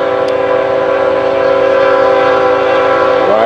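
FEC109 freight train rolling past at a junction, a steady loud rumble of railcars with sustained horn tones throughout the passage.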